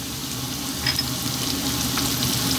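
Garlic ginger paste and fresh chili fry in a pan over high heat, giving a steady close sizzle with faint stirring scrapes.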